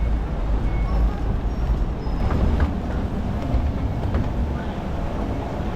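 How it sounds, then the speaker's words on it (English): A metro train pulling into a station on the line toward Nana, with a loud steady low rumble and rolling noise throughout and a few faint high squeals over the top. "Okay, the train is here."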